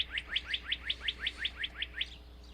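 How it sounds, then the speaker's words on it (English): A cardinal whistles a rapid series of about ten clear, rising chirps in an even rhythm, close and bright against a quiet low hum. "There's a cardinal."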